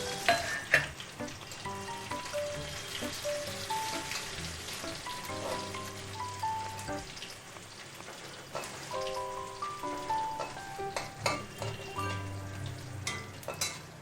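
Garlic fries in hot oil with cumin seeds and bay leaves for a raw jackfruit curry, a steady crackling sizzle that runs continuously under background music.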